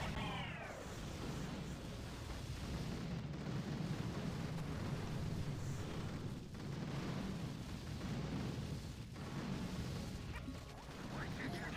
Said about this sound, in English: Before I didn't hear all these doom cannons.